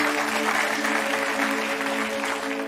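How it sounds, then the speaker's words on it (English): A live audience claps steadily for two volunteers, a dense, even wash of applause that holds loud throughout and fades only slightly at the end, with no one speaking. "Round of applause for our 2 volunteers."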